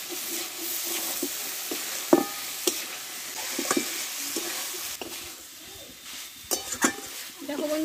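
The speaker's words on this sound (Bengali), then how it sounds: "দেখো বন্ধুরা এটা আমি ভাজা ভাজা করে নামাবো, কালারটা খুব সুন্দর এসছে। দেখো কিছু করে আমি নাড়াচাড়া করে নেবো।" Boiled potatoes frying in a pan with a soft, steady sizzle, broken by irregular scrapes and knocks of a spatula as they are stirred, close and moderately loud.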